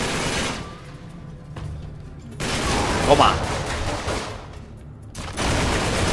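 Enemy gunfire in Uncharted 3 crackles in bursts of shots through the scene, with a voice talking over parts of it.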